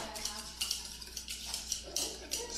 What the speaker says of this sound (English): you're gonna grab your whisk, and you're just gonna whisk it up,